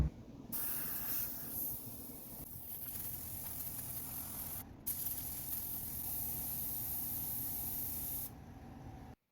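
Steady close hiss of an airbrush spraying Createx Pearl Silver paint onto an aquarium decoration, running in long continuous bursts with two brief pauses.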